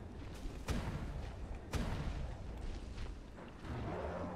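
Cannons firing in the modded ARK Primal Fear game, two sharp booming blasts a second apart followed by rumbling, faint overall.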